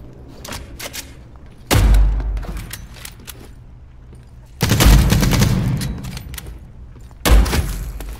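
Gunfire in the video game The Cycle: Frontier comes in three loud, close bursts of rapid shots, separated by quieter stretches of background game noise.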